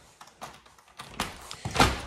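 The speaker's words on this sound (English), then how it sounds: "Door gives access to the rear from here, which we should go out and have a look at now." A PVC double glazed door at the rear of a house opens, with a handle click, soft knocks and a louder thunk and rustle as it swings, close and quiet with no talk.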